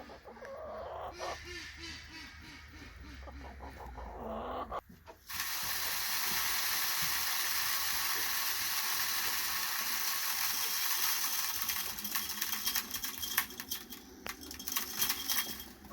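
An automatic timed chicken feeder kicks on and drops feed into buckets: a sudden rattling, ratcheting rush starts partway through and keeps going, with hens clucking nearby.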